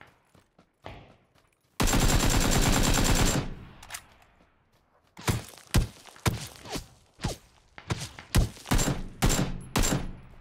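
A long rapid burst of automatic gunfire in PUBG, followed by scattered single shots, thuds and footsteps, sharp and loud at close range with gaps of near silence between.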